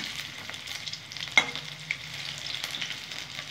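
Prawn fritters (chingri macher bora) fry in a pan with a steady close sizzle, a sharp clack of a utensil as they are turned, and a few softer scrapes.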